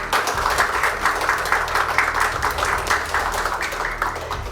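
Warm applause from an audience at a Korean government information security day ceremony as a Prime Minister's commendation is presented, steady rhythmic clapping throughout with a low hum beneath.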